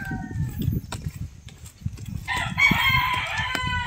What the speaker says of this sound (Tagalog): Guys, dinig yung mga manok.